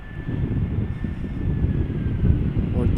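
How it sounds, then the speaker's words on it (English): An EasyJet Airbus A319 arriving at Amsterdam Schiphol from Pisa in crosswind conditions, heard as a steady, loud jet roar with a faint whine running through it for the whole span. "EasyJet A319 arrival from Pisa"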